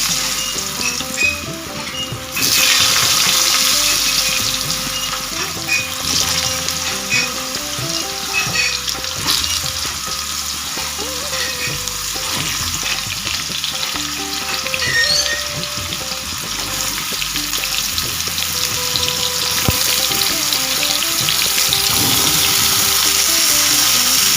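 Potatoes frying in hot oil sizzle in a continuous bright crackle, with occasional stirring scrapes and clinks of a utensil in the pan throughout.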